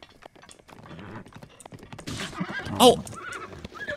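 Horse hooves clip-clop and a horse neighs in the open world of The Legend of Zelda: Breath of the Wild, with a sharp whinny peaking near the end over background game sounds and a brief exclamation from a player.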